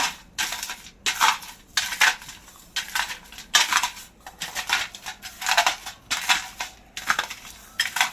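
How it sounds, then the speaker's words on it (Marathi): Roasted peanuts are crushed under a bowl in a home kitchen, a run of about a dozen rhythmic gritty crunches and scrapes, close and fairly loud, with no speech. "इथे आता शेंगदाणे वाटीने थोडे क्रश करूया"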